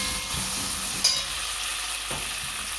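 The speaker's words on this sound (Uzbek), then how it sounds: "Birinchi bulg'or qalampirini solsa, ozgina qovurib olamizmi?" Bell peppers fry in a cooking pot with a steady broadband sizzle and a brief stirring clink midway, close and continuous, with no talking.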